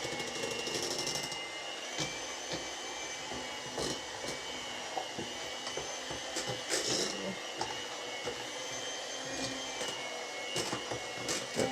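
A kitchen mixing machine strains through a large batch of mashed potato for a Karelian dish, giving a steady motor whir with uneven knocks and clatters throughout while someone speaks softly.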